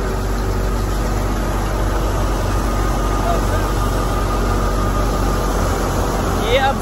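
A wheat threshing machine runs near a tractor loaded with wheat bundles on a farm in Punjab, giving a loud, continuous mechanical drone and hum that stays steady throughout with no pauses.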